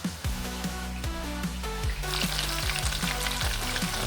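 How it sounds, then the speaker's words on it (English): Goldfish frying Jamaican-style in a pan, a loud close sizzle with repeated crackling pops throughout, growing busier toward the end, with no talking. "these are goldfish in the frying pan"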